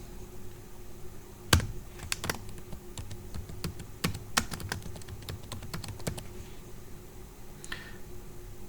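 Typing on a computer keyboard while adding an entry in a tree editor: irregular bursts of sharp key clicks, close and clear, with a few louder taps over faint room hum and no talk.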